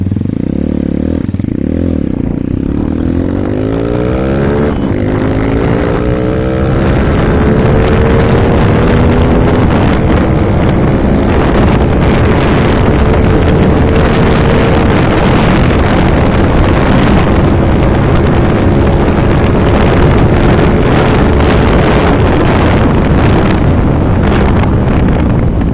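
A motorcycle fitted with a KRY 200 RS8 Red Speed 28mm round-slide racing carburettor revs hard and accelerates up through the gears, its engine note climbing steadily, loud and close, with wind buffeting the microphone.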